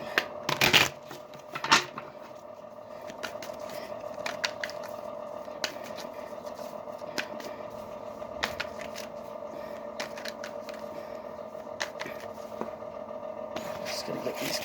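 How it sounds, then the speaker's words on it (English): Tarot cards shuffled and shifted aside on a table, a steady papery rustle with brisk snaps and slides near the start and scattered soft card taps throughout, close and fairly quiet with no talking. "Just going to get these cards out of the way."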